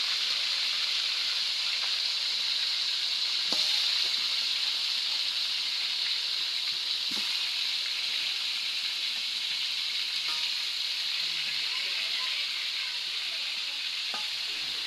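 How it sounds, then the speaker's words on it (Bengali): Chicken leg pieces sizzle steadily in a new wok, with a constant frying hiss and occasional clinks of a utensil stirring the pan. "যেগুলো ভাজা বাকি ছিল এখন সেইগুলো ভেজে নিচ্ছে।"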